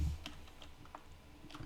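A few faint, sharp computer mouse clicks sound close by at an otherwise quiet desk while someone works in network switch configuration software.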